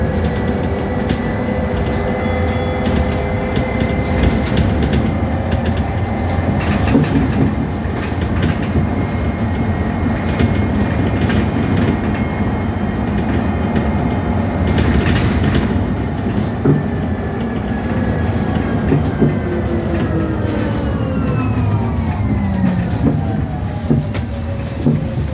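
Electric Ember bus driveline with reduction gears whining while driving through Perth, Scotland, a steady loud drone with rising and falling tonal whine throughout.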